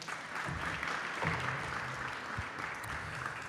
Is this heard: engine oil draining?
no